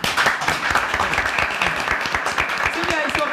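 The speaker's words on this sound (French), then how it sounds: "si vous aimez Meryl, vous pouvez applaudir" Studio audience at a French television show applauds loudly and steadily throughout, with cheering voices mixed into the dense clapping.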